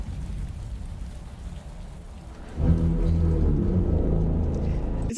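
Steady rain pours over a low rumble in The Batman movie trailer, then grows heavier and louder about halfway through.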